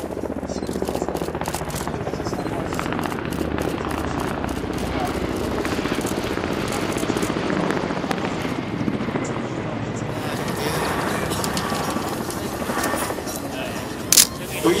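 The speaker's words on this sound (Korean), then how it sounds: "여기 진화를 위해서 추가로 초대형 헬기가 진행하고 있으며" A super-large firefighting helicopter flies over a hillside during a wildfire-suppression drill on the east coast, its rotor drone and thrum steady and fairly loud throughout, with someone talking over it.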